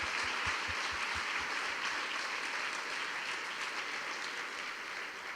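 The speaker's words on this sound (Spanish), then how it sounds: "Sí os pediría un aplauso para todos ellos" Steady audience applause at an annual Erasmus+ school education outreach conference, a continuous even wash of many hands clapping for several seconds without talk.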